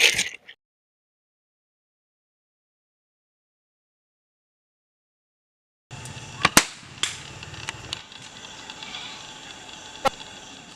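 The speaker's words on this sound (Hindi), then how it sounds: "भैया ये कुल नकली पड़ाका दे बाटे, इनमें मजा ना ही आवत है" Small fake Diwali firecrackers going off outdoors, a few sharp cracks and pops after a long silence, with a brief burst at the very start and scattered crackling hiss in between.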